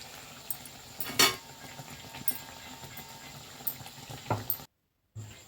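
Rolled nan puri bubbles in hot oil in a pan, a low, crackling frying sound with sporadic sharp clatters and scrapes, briefly cutting to silence near the end.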